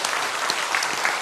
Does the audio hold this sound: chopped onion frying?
no